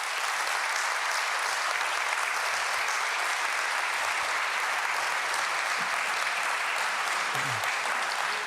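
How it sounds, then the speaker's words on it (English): Sustained audience applause fills a conference hall at a holistic health and wellbeing event, dense and steady clapping from a large crowd throughout, with no talk over it. "Let's give him a big round of applause."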